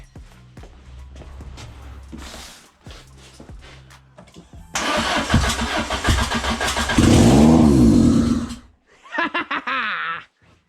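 A Peugeot 106 with a swapped XU7JP4 engine cranks with clicking starter bursts, catches and revs hard to a loud sustained roar, then drops off and gives a brief second rev, heard up close.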